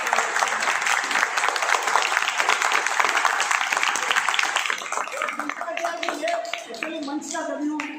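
An audience claps at the opening of a Hindi poetry stage event, dense sustained applause that thins toward the end as voices start to come through.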